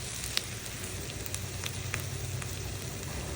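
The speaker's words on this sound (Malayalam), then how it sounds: "എന്നിട്ട് വീണ്ടും നന്നായിട്ടൊന്ന് ഇളക്കി കൊടുക്കാം." Sweet corn masala with coriander leaves sizzles softly in a pan as it is stirred, a steady crackling fry with occasional faint scrape clicks, close and fairly quiet.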